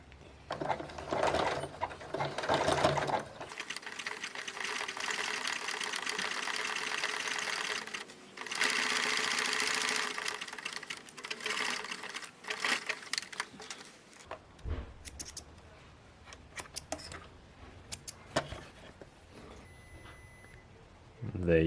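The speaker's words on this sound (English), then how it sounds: "I'm going to use a domestic sewing machine that can do a zigzag" A domestic sewing machine runs zigzag stitches along a leather shoe upper. It whirs up close in bursts, with short pauses and handling noise in between, and a voice speaks now and then.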